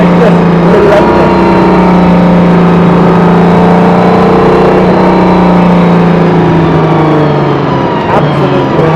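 An Aston Martin Valkyrie accelerating hard on the road, a loud, close engine scream with steady harmonic tones that climb and ease back, sustained over the whole stretch.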